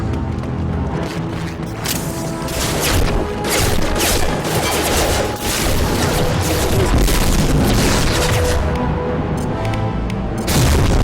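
Automated defense batteries open fire in Mass Effect 2, a dense, loud barrage of rapid shots and booms rolling on continuously for several seconds with no talk over it.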